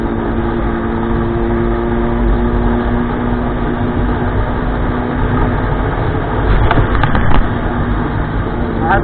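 A Kawasaki ZX10R sport motorcycle with an Arrow exhaust rides on a road in Silchar, Assam, its engine a loud, steady drone that continues throughout without any voices.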